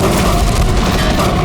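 Gunfire in a Hindi TV crime drama shootout, a short dense burst of loud booming shots that blur into a continuous low rumble.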